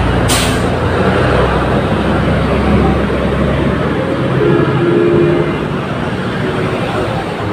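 A truck rumbles by on a road near a burned jeepney, a loud, close, continuous engine roar and road noise that stays heavy and fades slightly toward the end, with a brief hiss at the start.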